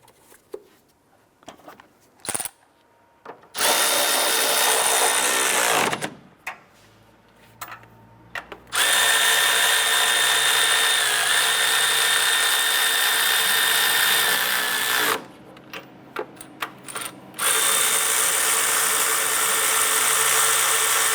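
An electric power tool snugs down nuts on a 2001-2005 Honda Civic during timing belt and water pump work, running in several loud bursts of steady whine separated by short pauses with clicks and handling noises.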